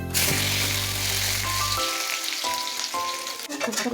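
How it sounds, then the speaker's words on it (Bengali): Chopped garlic goes into a hot frying pan and sizzles loudly and steadily up close, with a short stirring clatter near the end and no talk. "কেটে রাখা এখন রসুনগুলো দিয়ে দেবো।"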